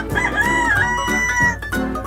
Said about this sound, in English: The red rooster ate raisins while resting and